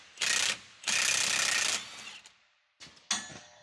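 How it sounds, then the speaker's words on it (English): A ratchet wrench with a 1-15/16 inch socket turns a hub nut on a Dodge Ram 2500/3500 during wheel bearing replacement, giving two sustained bursts of rapid clicking followed by a few shorter ratchet spurts, close and clear with no talk. "Take an inch and 15/16 to remove the hub nut."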